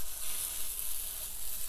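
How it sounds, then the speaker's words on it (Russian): Oladyi pancake batter, spooned onto the hot plates of an electric grill, gives a steady loud hissing sizzle that holds even and close for under two seconds, with no voices. "И мы с помощью столовой ложки выкладываем наши оладьи."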